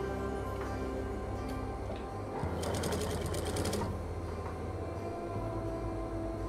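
A sewing machine stitching a neck collar on a garment, a steady close mechanical whir with a rapid needle rattle that swells into a brief faster burst midway, then settles back to a continuous hum.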